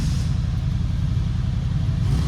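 Classic Porsche engine idling steadily with a low, even rumble and a faint rhythmic pulse, running alone without talk.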